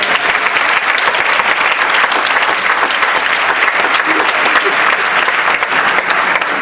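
A large crowd applauds loudly and continuously, a dense, sustained roar of clapping that stays at full strength throughout with no break.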